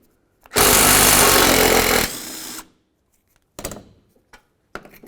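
A loud, close power tool whirs in one sustained burst of about two seconds as it works on a strut mount bolt of a 2000-2005 Buick LeSabre, then winds down, followed by a few short metallic clatters.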